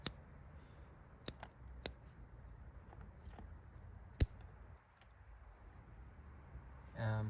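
A few sharp, crisp scissor snips at irregular intervals as a potted plant is pruned, over a low, steady background hum, fairly close and otherwise quiet.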